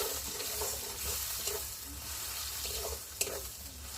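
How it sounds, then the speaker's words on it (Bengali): Onion and green chillies frying in oil give a steady, close sizzle, with soft scraping and stirring noises rising now and then over the hiss. "দিয়ে পেঁয়াজটা একটু ভালো করে ভেজে নেব।"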